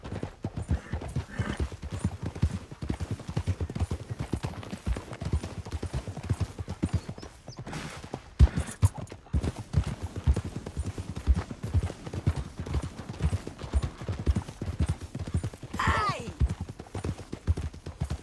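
Rapid hoofbeats clatter continuously at a gallop, with a horse whinnying near the end and a brief shout from a voice, in the video game Red Dead Redemption 2.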